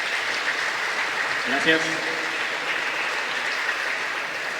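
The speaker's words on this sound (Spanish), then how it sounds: "vamos a recibir con un aplauso a nuestro hermano" Audience at a conference on the fight for life in Mexico welcomes licenciado Carlos with steady, dense applause lasting throughout, as someone briefly says thanks over it.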